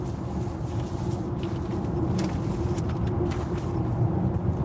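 A Nio EL8 electric car cruising on the road at night, a steady broadband road and tire rumble filling the cabin with no speech, constant and fairly loud throughout.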